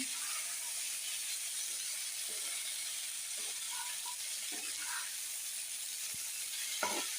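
Onion and panch phoron fry in oil, a steady soft sizzle running throughout with occasional faint stirring scrapes and clicks, moderately quiet and close.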